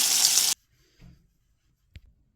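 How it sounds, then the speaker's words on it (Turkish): Tap water gushing into a sink for a brief half second before shutting off abruptly, followed by a couple of faint knocks, close and alone. "ben gidiyorum elimi yüzümü yıkayayım"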